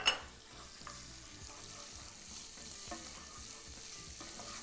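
Olive oil and butter melting in a pan for ezogelin rice pilaf, a soft, steady low sizzle close up, opening with a brief clink and then a quiet, even crackle.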